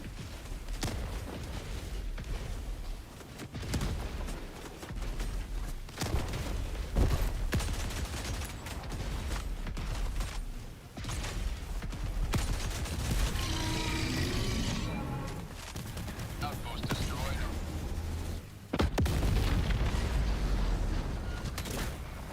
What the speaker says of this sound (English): Anti-material rifle is nice against bots.